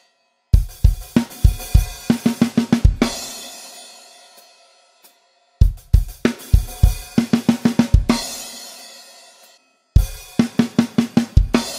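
A drum kit plays the short third-bar fill from a song, loud and close, in three punchy bursts of rapid hits, each trailing into cymbal ring before it repeats.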